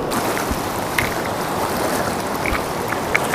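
Fast water in a fast chute on Esopus Creek rushes in a steady, dense, close roar with faint splashes, no voices.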